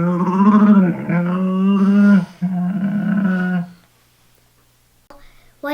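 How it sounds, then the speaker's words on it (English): A camel makes a loud, close, groaning roar-like bellow with strong harmonics, broken into three rough segments over nearly four seconds, followed by quiet and a brief sound at the end. "Here's a camel sound."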